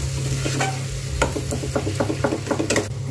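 Soft-cooked pumpkin is stirred and fried in oil, quick rhythmic scraping strokes over a bubbling sizzle and a low steady hum, close and fairly loud, with no speech.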